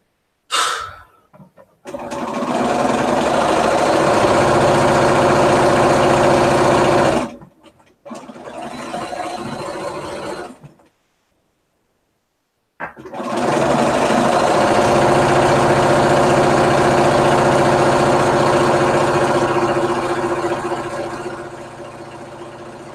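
Sewing machine stitching strips of a jelly roll race quilt, running in long steady bursts with a couple of short pauses and a brief gap of silence, close and loud, with no talking.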